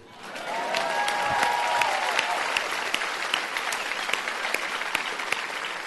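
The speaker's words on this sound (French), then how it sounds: "je voudrais surtout qu'on applaudisse pour ça" A congregation applauds in church to celebrate a baptism, dense steady clapping from many people sustained throughout, with faint tonal sounds briefly in the background early on.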